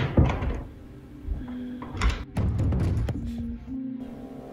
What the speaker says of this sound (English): Audrey tries the handle, but banging can be heard from the other side.